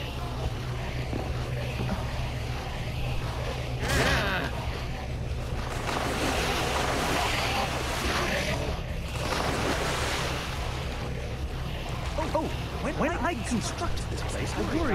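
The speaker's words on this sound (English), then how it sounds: "Wait, come on, water!" Rushing water from a Minecraft Story Mode game scene, a steady broadband wash like surf with wind-like noise running throughout, loud and continuous, with a voice speaking over it.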